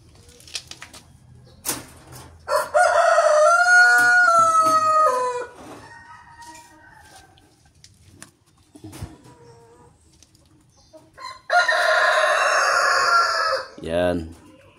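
A recovering rooster crows twice, long clear calls separated by quieter clucks and bird noises, loud and close in a quiet setting.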